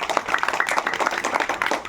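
A crowd claps in rhythmic, sustained applause at a birthday celebration for actor Kalyan Ram, bright and fairly close throughout.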